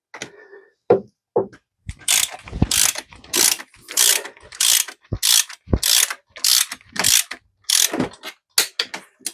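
A ratchet socket wrench clicks in repeated bursts of rapid pawl ratcheting during a Crusader 454 marine engine rebuild, close and loud, each stroke separated by brief pauses, with a few isolated metallic knocks early on.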